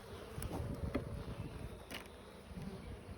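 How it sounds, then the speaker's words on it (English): Honeybees buzz around a beehive during an inspection, a faint, steady drone broken by a few closer passes of individual bees. "There's a lot of bees."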